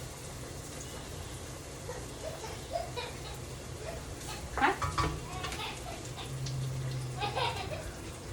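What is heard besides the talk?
shallots sizzling in pan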